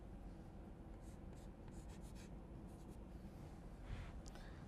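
Pen writing by hand on paper or a board while working through a differential equation, a faint continuous scratching with short strokes at a low level and no talk.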